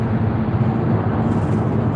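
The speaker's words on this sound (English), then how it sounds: "This truck's going past now." A truck rolls past close by with a loud, steady low rumble and broad road roar that holds level for a couple of seconds without any talking.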